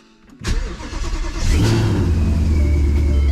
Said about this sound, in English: We are going to start the car with the valves closed because it is super loud with the headers